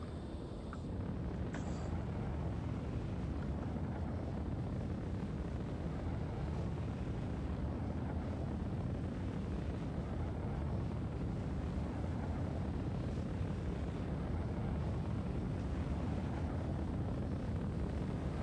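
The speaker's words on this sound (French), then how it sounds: "Les petits moteurs travaillent bien" A steady, loud roaring rumble of an Anvil Hawk spaceship's engines thrusting in the game Star Citizen, continuous and unbroken throughout, with a faint hiss on top.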